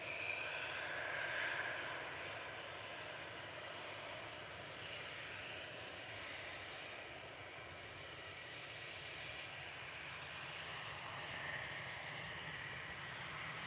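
An aircraft coming in to land at Liverpool Airport, a steady distant engine drone and rushing roar holding throughout, heard outdoors with no talking.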